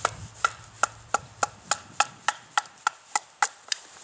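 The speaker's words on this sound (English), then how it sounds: "we're going to baton it in half" A knife is batoned through a piece of wood to split it in half, struck about a dozen times in a steady rhythm of sharp, close, evenly spaced knocks with short quiet gaps between them.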